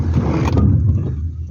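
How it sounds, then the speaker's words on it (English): A car brakes hard in an emergency stop during a driving lesson in Turkey, a loud, broad rush of road and tyre noise that swells and then fades out over about a second and a half. "We just initiated an emergency stop."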